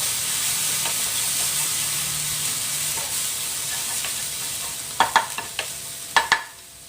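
Ingredients stir-fried with French mustard in a hot pan, a steady close sizzle, then a run of sharp spatula scrapes and clanks against the pan near the end.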